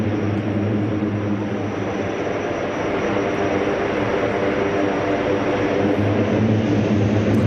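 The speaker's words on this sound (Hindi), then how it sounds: "C-130J super Hercules aircraft Purvanchal expressway पर लैंड कर चुका है।" A C-130J Super Hercules turboprop landing on the Purvanchal Expressway, a loud, steady engine drone and propeller roar that holds constant throughout, with no voices.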